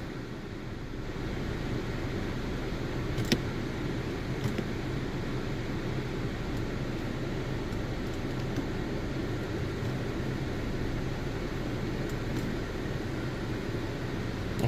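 A 2015-2020 Acura TLX idles at normal operating temperature, a steady low engine hum with a faint hiss over it and an occasional small click, heard alone without talk.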